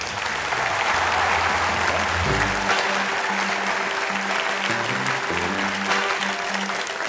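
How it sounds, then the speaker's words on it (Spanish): A studio audience on a Spanish late-night talk show applauds a guest, a film director and playwright, with sustained dense clapping throughout and a low musical band tune playing underneath. "Un fuerte aplauso, Félix Sabroso."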